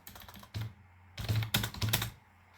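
Java code being typed on a computer keyboard: a few scattered keystrokes, then a quick burst of close, clicky taps, heard alone without talk.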